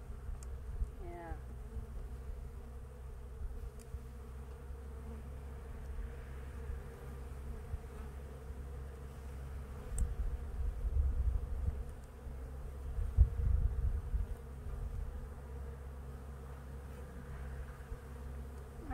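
Honey bees buzz steadily around an open hive during an inspection, a close, low, continuous drone that swells briefly partway through and is joined by occasional rustling handling sounds.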